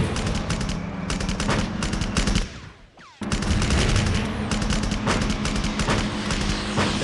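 Airstrike in a PlayRaven mobile strategy game: a dense, loud barrage of rapid gunfire-like bursts and booms, briefly dropping out near the middle before resuming just as heavily.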